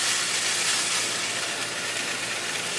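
Tuna searing in a very hot pan gives off a steady, loud sizzle and hiss that runs unbroken throughout, with no talking over it.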